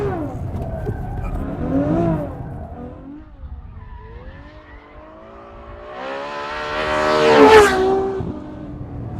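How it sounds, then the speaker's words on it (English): A Ferrari with electronic stability control switched off accelerates and oversteers, the engine note rising and falling through revs before climbing sharply to a loud, screaming peak with tire squeal near the end. "We give it a little bit of gas? Oh, and it oversteers quite a lot."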